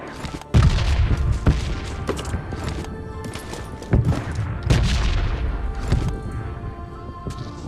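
In a PUBG match, a grenade bursts with a heavy boom amid several close, loud gunshots and short volleys that crack out unevenly, over continuous in-game background noise.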